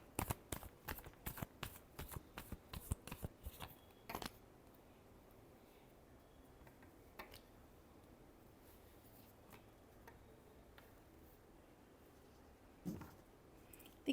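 Tarot cards being shuffled up close, a quick run of crisp flicking riffles in the first few seconds, then quiet handling with a faint shuffle near the end.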